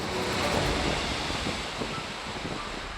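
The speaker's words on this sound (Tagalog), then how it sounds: "Habang ang tunog ng alon may dalang kapayapaan." Ocean surf washing onto a beach in Zambales lined with agoho trees, a steady broadband roar with soft wind-like hiss, continuous and fairly even throughout.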